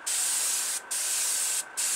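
A Testors Aztek airbrush sprays acrylic paint onto a model car body in a paint booth, a steady close hiss interrupted twice by brief pauses before resuming.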